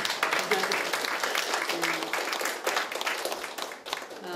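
An audience at a mental health policy forum gives a round of applause to a committee member, brisk close clapping from a modest crowd that swells and then tapers toward the end, with some talk mixed in.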